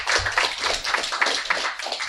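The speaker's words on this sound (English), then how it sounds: "So, round of applause to start us off." Applause from a studio audience at a quiz show, a steady patter of clapping hands that carries on for a couple of seconds on its own.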